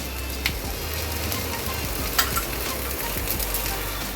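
A crispy semolina (suji) chilla pancake fries in oil on a pan, sizzling steadily and closely, with a few faint pops and scrapes over the crackle.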